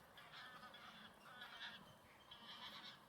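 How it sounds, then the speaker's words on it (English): Geese honk repeatedly in overlapping bursts, a flock calling at moderate distance with a steady outdoor hiss underneath and no voices. "Geese? Are those some swans?"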